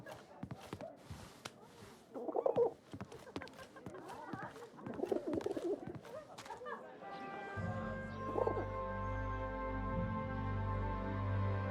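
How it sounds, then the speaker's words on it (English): Pigeon coos in the video game 11-11: Memories Retold, soft and close amid footstep-like taps and ambient game sound, before a sustained musical drone takes over. "Dancing with a pigeon."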